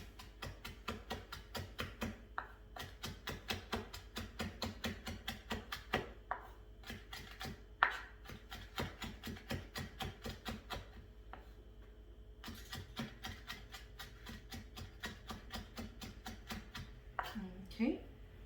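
A knife chops lemongrass and fresh herbs on a board for Hmong-style baked fish, in quick steady rhythmic strikes running nearly continuously with short pauses, close and crisp.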